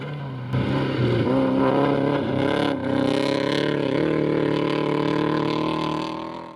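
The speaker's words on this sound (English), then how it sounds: "The engine note in stage 1, however, wasn't an encouraging sign." A Peugeot 106 rally car on a snowy stage, its engine note droning loud and sustained at high revs with slight pitch shifts as it accelerates, heard close with no voices.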